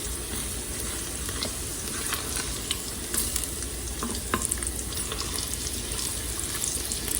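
Pancetta renders and sizzles in a pressure cooker, a steady close frying crackle with occasional stirring scrapes and pops throughout, no talk.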